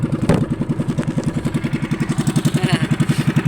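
A small boat engine runs at a fast, steady idle, its rapid chugging pulses even and close, with no voices.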